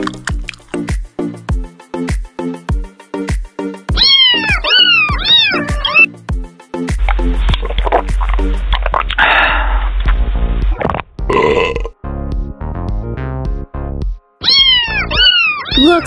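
A kitten eating pizza meows repeatedly in short, rising cries over a rhythmic, music-like backing, with a squelchy, gulping stretch in the middle.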